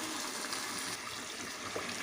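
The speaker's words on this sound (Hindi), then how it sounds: "उसके बाद मैं इसमें पानी शामिल कर दूँगी" Water is poured into a pan of potato, meat and pea curry, a soft steady gush and fill that stays faint and continuous throughout, with no speech.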